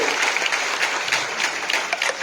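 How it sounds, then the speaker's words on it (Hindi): Steady, dense applause from a crowd, continuous clapping holding at an even loudness throughout. "पहले जोरदार तालियां अपने लिए दो, जोरदार तालियां, जोरदार तालियां अपने लिए, जोरदार।"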